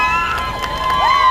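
Supporters crowded outside the Plymouth courthouse cheer and shout, a loud continuous wash of raised voices with high whoops rising above the crowd noise.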